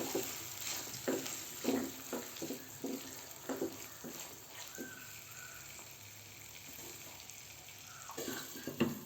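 Peas and spinach cooking in a pan on full flame give a faint steady sizzle with soft stirring scrapes and occasional taps of a spoon, quiet and close, without talk.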